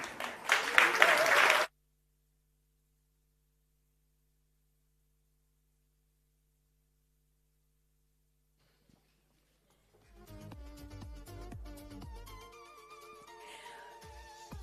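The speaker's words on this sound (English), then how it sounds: "Let's give them a final round of applause." A crowd at an employee celebration event gives a short, loud burst of applause that cuts off abruptly into silence; several seconds later soft music begins.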